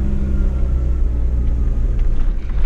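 A supercharged VW Gol G2 accelerating in first gear, a loud, close, low engine rumble with steady harmonic drone and slight fluctuation throughout.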